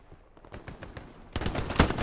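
Machine gun fire in the WW2 shooter Hell Let Loose, a BAR or .30 cal, rattles in rapid bursts of shots, growing louder and denser partway through, with no talk over it.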